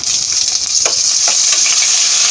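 Dried red chillies and curry leaves crackle in hot oil as a tempering for nalleru chutney, giving a steady, close sizzle that runs unbroken throughout.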